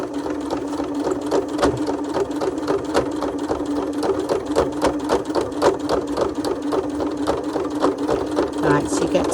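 A sewing machine stitches slowly through two layers of scrap fabric plus lining, a loud, steady rapid whirring and clatter close by, while someone talks over it.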